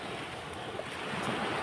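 Sea waves on the shore at Ilihan Bay, a steady wash of surf mixed with wind buffeting the microphone, continuous and fairly close.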